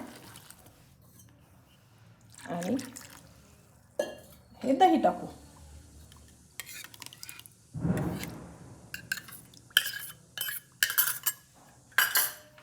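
Spoon clinks and scrapes against a bowl in short irregular bursts while sorghum flour batter is mixed, close and clear with pauses between strokes; someone talks in between.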